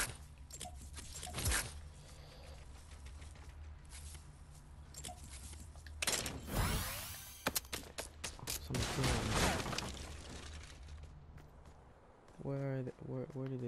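Fortnite gunfire on PS4, with a dense burst of shots around the middle amid footsteps and game noise while a player talks over it.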